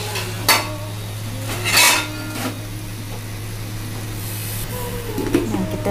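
Chicken curry being stirred in a pot of spices, with a few scraping clatters of a spoon against the metal pot over a steady low hum, near and fairly quiet between strokes.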